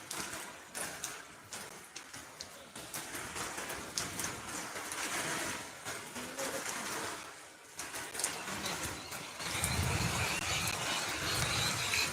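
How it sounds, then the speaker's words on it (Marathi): Steady rain pours down on a goat farm with a dense, continuous hiss that swells louder toward the end, scattered with irregular patters and drips. "खूप पाऊस आहे काल पण होता आज पण आहे"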